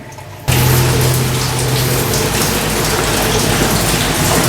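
Water rushing along a mine ride at Magic Kingdom, a loud steady wash of splashing flow that starts abruptly after a brief quieter moment and continues evenly to the end.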